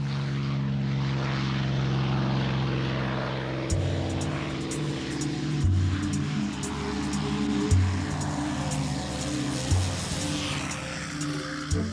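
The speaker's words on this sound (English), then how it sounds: "amid the growl of their airplanes" A P-51 Mustang propeller aircraft engine drones loudly and steadily, with a deep rumbling pulse and rhythmic surges as it runs nearby.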